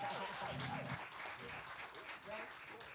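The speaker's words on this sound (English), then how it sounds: "Clap one time." Audience at a live music performance claps and cheers in a brief, fairly dense burst, quiet overall, with voices mixed into the crowd noise.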